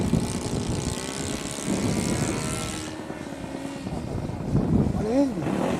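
Engine of an S-bach engine-powered model airplane, a steady droning buzz whose pitch sweeps up and down as it manoeuvres, with people talking over it nearby throughout.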